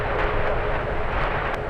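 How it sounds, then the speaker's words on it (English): United Airlines airliner taking off from San Francisco on a flight to Chicago O'Hare, a steady broadband jet roar heard from a distance without any voices. "United Airlines up next to take off. This one heading to Chicago O'Hare"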